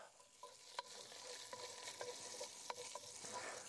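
Oxtail fries with butter and garlic in a hot pan, a steady close sizzle punctuated by sharp clicks and scrapes of stirring, with no voices.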